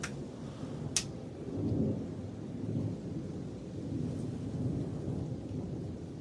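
A night thunderstorm with constant lightning: steady rain hisses throughout while a sharp crack comes early and low thunder rolls and rumbles after it, with no voices.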